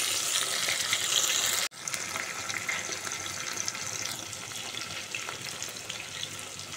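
Curry leaves and potato sizzling in hot oil in a pan for khichdi, a steady close crackle and hiss that cuts out for an instant and then resumes, with no talking over it.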